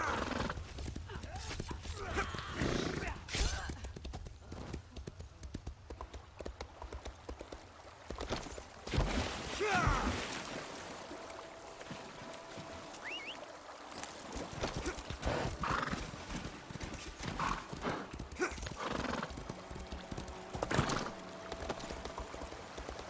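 In a video game, a horse's hooves clip-clop unevenly over wet ground near a waterfall. Now and then it whinnies, against steady rushing water at moderate loudness.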